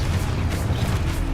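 A Confringo fire-blast spell goes off in the Hogwarts Legacy video game, a short, loud, low booming rumble with a crackling burst on top.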